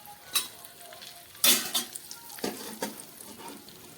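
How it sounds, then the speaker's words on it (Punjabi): Ground panjiri mixture with raisins is stirred in a pan, giving soft scraping and rustling strokes in irregular bursts, fairly quiet and close with no talking. "ਬਸ ਹੁਣ ਆਪਾਂ ਇਹਨੂੰ ਰਲਾ ਦੇਾਂਗੇ ਚੰਗੀ ਤਰ੍ਹਾਂ"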